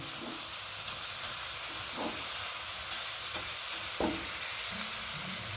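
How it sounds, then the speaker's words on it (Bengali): Grated coconut cooking with date palm jaggery in a pan: a steady bubbling sizzle with occasional soft scraping stirs of the spoon, close and continuous throughout. "তো দেখো খেজুরের গুড় দিয়ে আমি নারকেলটা একটু পাক দিয়ে নিলাম।"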